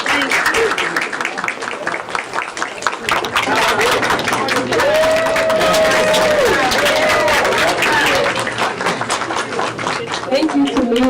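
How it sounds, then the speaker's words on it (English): A dense crowd at a Board of Education regular meeting breaks into sustained applause, loud and continuous throughout, with a steady wash of many hands clapping and a brief tonal sound briefly rising above it midway. "Let's give her another round of applause."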